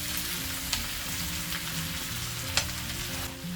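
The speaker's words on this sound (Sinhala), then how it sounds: "විනාඩි 3ක් විතර මෙතන වැඩි ගින්නකට මේක පොඩ්ඩක් ෆ්‍රයි කරගමු." Chicken and mushrooms stir-fry in a pan on high heat, a loud, steady crackling sizzle with two sharp spatula knocks against the pan.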